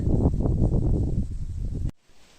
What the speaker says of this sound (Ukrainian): Вітерець зриває листочки, стеліє ковдру таку.